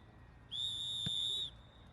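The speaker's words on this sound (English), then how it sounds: "And that's the full-time whistle." A referee blows one steady, piercing whistle at the end of a youth football match. The blast lasts about a second and comes through clearly over faint outdoor background noise.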